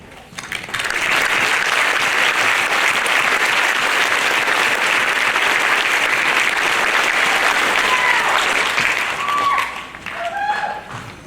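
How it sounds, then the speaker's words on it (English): An audience at a fifth grade graduation breaks into sustained applause, a dense, loud wash of clapping that starts abruptly, holds for about nine seconds, then thins out with a few scattered claps and faint voices. "can you please stand and we can give you all a big round of applause"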